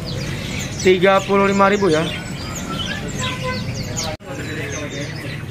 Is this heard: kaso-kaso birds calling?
yes